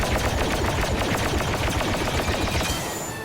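First Order pistol in Battlefront 2 fires a continuous rapid stream of shots with the trigger held down, loud and steady with no voices.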